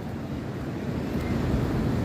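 Strong sea waves surging near the lighthouse at Tynemouth, a steady broad roar of surf mixed with wind buffeting the microphone, continuous and loud with no distinct individual crashes.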